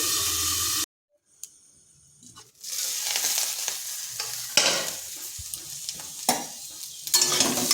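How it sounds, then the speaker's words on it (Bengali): Ivy gourd (kundri) fries and sizzles in oil in a wok over medium-low heat, with a brief silent gap early on, then steady close hissing broken by stirring scrapes and bursts of spattering. "কুঁদরিটাও ভাজা হয়ে গেছে, এটাকে তুলে নিচ্ছি।"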